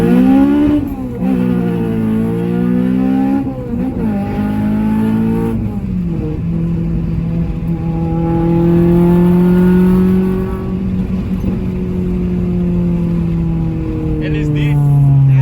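A Honda Civic Type R FN2 with its K20 engine revs hard, pitch sweeping up and down through repeated climbs, loud and close with voices talking over it.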